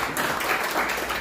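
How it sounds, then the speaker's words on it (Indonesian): A church congregation applauds during a Sunday service. Dense, even clapping from many hands fills the short moment at moderate volume. "Berikan tepuk tangan untuk Tuhan."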